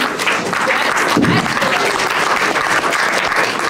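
Dense, steady applause from an audience at an engineer's farewell party held by the DC Bronies, loud and continuous throughout with a brief swell near the middle.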